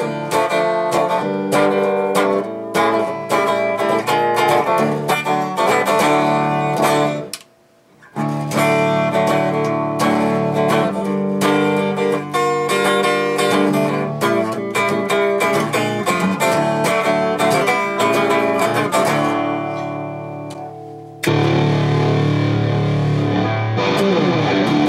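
Electric guitar played through a Mesa Dual Rect-o-verb amplifier into an EVH 4x12 cabinet, a loud clean tone with continuous strummed chords and riffs, a brief pause near the middle and a change in tone near the end.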